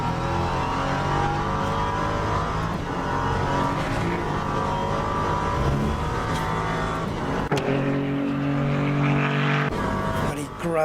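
A race car engine in Le Mans Ultimate revs loudly and steadily, its growling tone rising and falling with gear changes, briefly dipping near the end before climbing again, with no one speaking.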